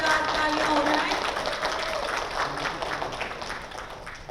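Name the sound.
audience applause at TV show launch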